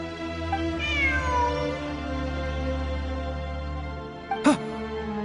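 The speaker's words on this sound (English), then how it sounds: "Look! A cat!" A cat meows in a video game during exploration of ruins, a drawn-out mew over a steady droning game backdrop, with a short sharp chirp near the end.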